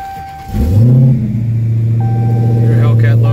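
A 2016 Dodge Challenger Hellcat's supercharged engine cranks and fires with a loud rising roar, then settles into a deep, steady idle rumble close by, while someone talks over it.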